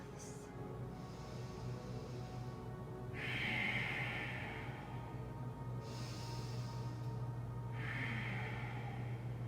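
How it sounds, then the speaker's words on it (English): Slow, deep breathing during a yoga flow, with long airy inhales and exhales in a steady rhythm, close and soft over a low background hum. "Take a few breaths."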